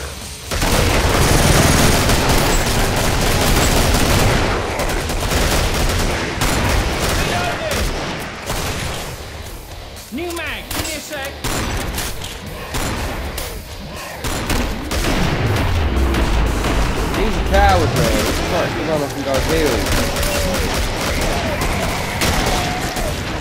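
Desert Eagle pistol fire in the co-op shooter Killing Floor, mixed into loud, nearly nonstop gunfire and booms from several weapons, with people talking over the fight.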